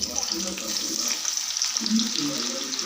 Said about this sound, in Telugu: ఇలాగే వేయించుకోవాలి అన్నీ సేమ్గా కొన్ని కొన్ని వేసుకుంటూ వేయించుకుంటే బాగా కాలుతాయి ఫ్రై అవుతాయి అన్నమాట కాకరకాయలు